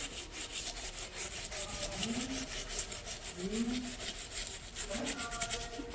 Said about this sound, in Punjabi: ਇਸ ਤਰੀਕੇ ਨਾਲ ਆਪਾਂ ਰਗੜ ਲਾਂਗੇ ਇਹਨੂੰ ਹਲਕਾ ਹਲਕਾ